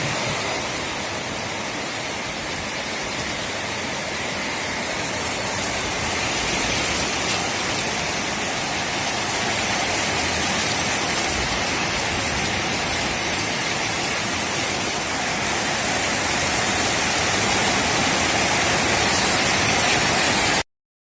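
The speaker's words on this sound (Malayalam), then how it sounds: "അപ്പോൾ പെട്ടെന്ന് നല്ലൊരു മഴ പെയ്യണു കേട്ടോ" Sudden heavy rain pours steadily, a dense broadband hiss of drops on surfaces that swells slightly louder over about twenty seconds and continues without pause.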